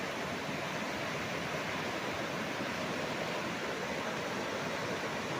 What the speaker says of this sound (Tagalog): Yan ang agos oh